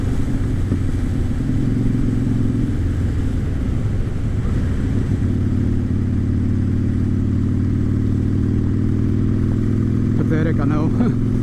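A motorcycle fitted with chrome chiseled eights cruises along the road with a steady, close engine drone and wind rush, a rider speaking occasionally over it.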